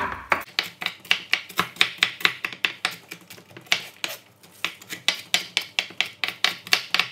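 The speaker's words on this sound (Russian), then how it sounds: "Я просто возьму вот так вот жменю орехов, полторы жмени, и порежу на меленькие кусочки." A knife chops a handful of nuts into small pieces on a board, producing a steady, rapid series of sharp, even knocks with a brief pause midway; close and loud, no voices.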